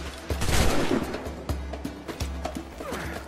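Gunfire in Assassin's Creed IV: Black Flag: a scatter of sharp shots cracks through busy in-game ambience, with horse hooves and whinnies mixed in.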